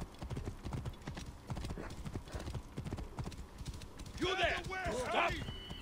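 Rhythmic clip-clop of horse hooves trotting steadily, close and clear, followed by a horse's whinny near the end, in the video game Assassin's Creed Origins.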